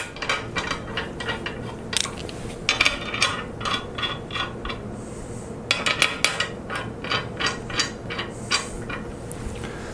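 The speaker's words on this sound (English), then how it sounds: "I'll use another Allen wrench to tighten these down." Socket cap screws being tightened with an Allen wrench on a modular angle plate, a series of sharp metallic clicks and taps in irregular bursts, close and fairly loud with no talking.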